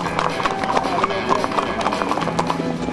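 Horse hooves clip-clop during a cattle drive at the San Diego County Fair, steady busy rhythmic hoofbeats close by with background activity throughout.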